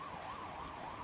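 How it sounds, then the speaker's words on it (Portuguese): A distant siren wails on a neighboring city block at night, its tone rising and falling steadily over a constant background hum, with no voices present. "Havia o som distante de uma sirene, ecoando pelas quadras do bairro vizinho."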